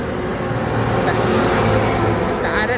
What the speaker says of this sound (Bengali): টায়ারের ডাক শুনুন।